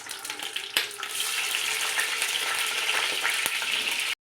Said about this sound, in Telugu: ఈ ఎగ్స్ని కూడా నేను యాడ్ చేస్తున్నాను వీటితో పాటే.